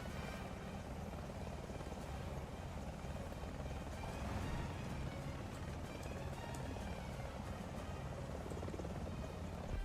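A helicopter in the combat game War Thunder drones steadily and loudly for the whole stretch, a dense rotor and engine roar with faint clicks on top and no voices.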